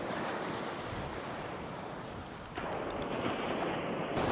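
Strong wind at the beach roars steadily against the microphone, blending with crashing surf, and a brief burst of rattling near the end.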